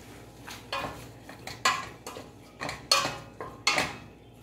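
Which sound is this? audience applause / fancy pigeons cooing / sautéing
sautéing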